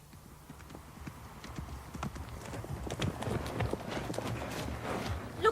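Horses' hooves clip-clop steadily on ground in a radio drama effect, starting faint and growing gradually louder as the horses approach, with a soft background and little else.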